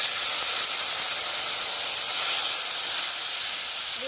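Water poured into a hot pan of spices, salt, turmeric and a little sugar for a Bengali banana stem ghonto sets off a steady, loud hiss and steam rush that holds evenly throughout, with no talking.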